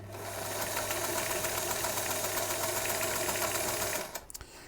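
A sewing machine runs steadily, stitching non-stretch woven fabric for a rainbow cowboy shirt, a continuous close mechanical whir with a low hum that stops near the end, followed by a few small clicks.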